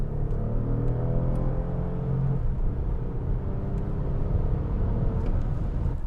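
Steady low engine rumble and road roar from a 2020 Lexus ES 350 as it pulls away hard with a brief tire peel, a droning tone sliding in pitch through the first half, continuous and close with no talk.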